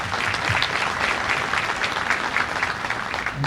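A crowd at a high school signing day event applauds educators in a steady burst of clapping. The applause is loud and even from start to finish, with no voices on top.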